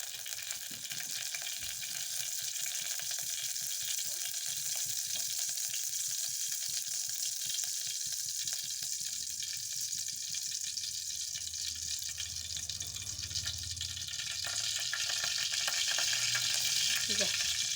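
Oil sizzles and crackles steadily and close by as spices are tempered, a continuous hiss of frying that swells slightly louder toward the end.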